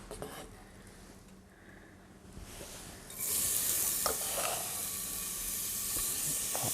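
A pinch of asafoetida hits hot oil in a pan and breaks into a bright, steady sizzle that jumps up sharply partway through and then holds loud and close; quieter kitchen handling comes before it.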